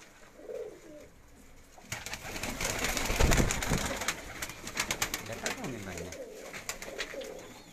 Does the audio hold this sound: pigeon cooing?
yes